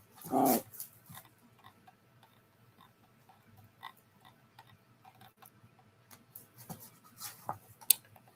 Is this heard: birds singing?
no